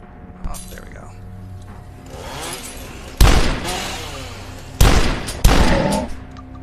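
Video game gunfire cracks in loud separate bursts, three sharp shots standing out over a constant background of game noise and rumble, with no talk over them.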